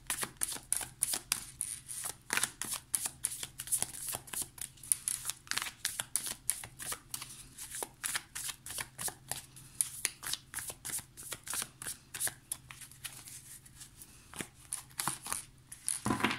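Tarot cards being shuffled by hand, a steady run of quick crisp riffling flicks and soft slaps repeating close up for a long stretch, with no talking.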